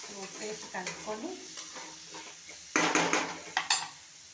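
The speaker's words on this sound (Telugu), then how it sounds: "ఉప్పు వేసి కలుపుకొని" Drumstick pieces and salt are stirred in a pan, with a spatula scraping and clinking against the metal and a soft sizzle underneath, growing louder and busier toward the end.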